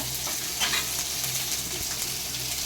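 Two dried red chillies frying in hot oil in a pan for a mutton and chicken gravy, a steady close sizzle with faint stirring, no voices.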